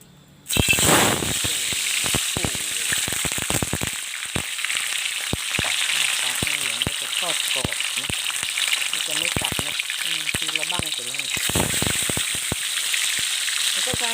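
Yellow catfish hits hot pork-rendered oil with a sudden loud burst, then settles into a close, steady crackling sizzle with sharp pops throughout, no speech.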